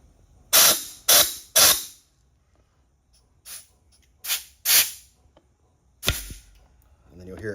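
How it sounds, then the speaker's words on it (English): Compressed air is fed into a brake caliper's brake line port to force the piston out: a run of sharp, loud pops and bursts of hissing air, three in quick succession, then several more spaced apart, close by. "You just put it inside where the brake line goes and just give it a little bit of air pressure"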